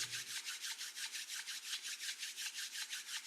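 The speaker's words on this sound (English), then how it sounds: "So go ahead and rub your palms together." Palms of hands rubbed briskly together, a close, soft, hissing swish repeating in a steady fast back-and-forth rhythm, about five strokes per second, alone in a quiet room.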